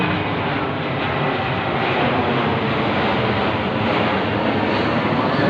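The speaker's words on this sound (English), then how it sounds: "It's a small plane, small jet." A small jet plane passes overhead outdoors, a steady, loud broadband engine roar that holds evenly throughout with no other sounds.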